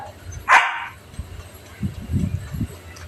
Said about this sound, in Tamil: நாய் வேற குலைச்சிக்கிட்டே இருக்கு.